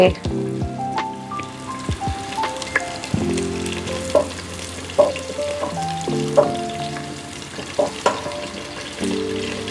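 Coriander leaves and mint frying in hot oil for a chicken dish, a steady close sizzle with scattered spits and pops under sustained tonal background music.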